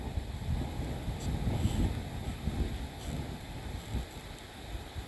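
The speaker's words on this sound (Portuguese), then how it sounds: "Porque o vento é forte demais essa hora mesmo." Strong midday wind buffets a mini drone's microphone in flight over open countryside, a steady low rumbling roar with gusty swells throughout and no voices.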